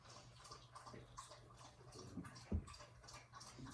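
Sparkling water is poured and sipped at close range, quiet fizzing and liquid noise with a small gulp or clink, no talking.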